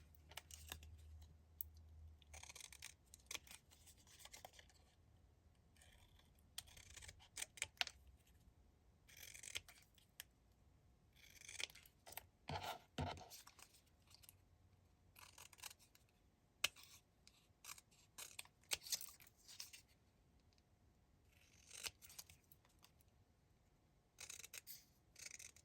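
Scissors snipping through white paper scraps at a table, a scattered run of short, dry cuts and rustles, fairly close and quiet, with no talking.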